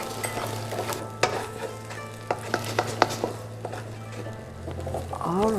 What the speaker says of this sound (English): We can do scrambled eggs here.